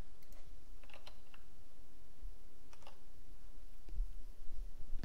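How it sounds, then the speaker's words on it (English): Computer keyboard keys tapped during Ruby programming work, a few light clicks as space and backspace are pressed, quiet and close over a low room hum, with no talking. "Just doing space backspace there."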